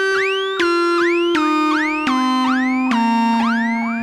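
Behringer Neutron synthesizer patch with a pitch rise and faster release: a repeating series of about eight bright tones, each sweeping upward quickly then cutting off, in a steady rhythm, loud and alone.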